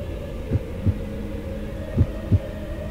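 Heartbeat sound effect, low, dull and muffled: two pairs of soft double thumps, evenly paced over a quiet steady hum, close and heard alone with no voices.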